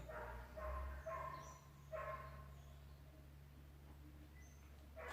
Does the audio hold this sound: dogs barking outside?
yes